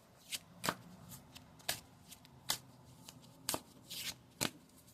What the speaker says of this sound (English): let me just pull a few cards